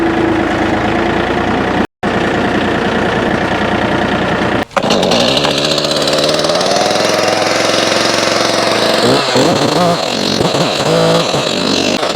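A chainsaw engine runs loud and close, idling roughly before revving up, its pitch rising and falling with the throttle.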